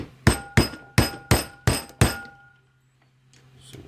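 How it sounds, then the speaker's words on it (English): Six sharp metallic strikes land in an even rhythm on a screwdriver working loose the front axle boot of a 2019 Kawasaki Teryx, each ringing briefly and close, then a faint rustle after the last. "get under it right here with a screwdriver and pop it loose"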